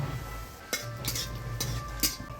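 Dry red chili and black cumin crackle in hot oil for bitter gourd chorchori, a soft sizzle under sharp clinks and scrapes of a spatula against the pan.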